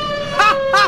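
A police car siren in a Cantonese audio drama gives a brief, loud, rising wail, sounding close.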